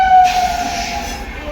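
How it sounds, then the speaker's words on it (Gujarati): A train pulls into a station on a trip to Dwarka, a loud, close rumble of rail cars with a brief horn tone at the start fading into steady rolling noise. "ફાઇનલ ટ્રેન આવી ગઈ છે"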